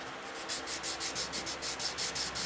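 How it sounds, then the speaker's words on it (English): Abrasive rubbing of a steel cabinet scraper edge on a sanding surface, done as a steady series of about eleven short, even strokes in a regular back-and-forth rhythm, close and fairly quiet with no talk. "we'll just give it a little bit of a sanding on both sides"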